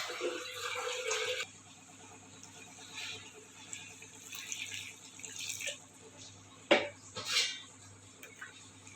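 Water splashes into a pan of simple undhiyu, a Gujarati mixed vegetable dish, in one brief pour at the start, followed by quieter kitchen clatter and a sharp clank near the end.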